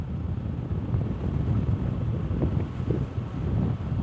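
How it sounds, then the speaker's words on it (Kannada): Strong wind buffets the microphone during a motorbike ride past open paddy fields from Siddapur toward Jog Falls, a loud, steady low rumble that surges slightly throughout. "ಯಾಕೆಂತಂದ್ರೆ ಗಾಳಿ ಜೋರಾಗಿ ಬೀಸ್ತಾ ಇದೆ ಇಲ್ಲಿ"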